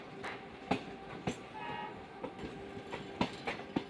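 Passenger train on the reopened Budgam–Srinagar line in the Kashmir valley, running along the track with a steady rumble and repeated sharp wheel clacks over rail joints, fairly close and with no voices.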